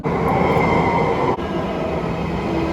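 An Istanbul M4 metro train runs with a steady, loud rumble and a whining tone, heard from inside as it travels along the line, with a brief dip partway through.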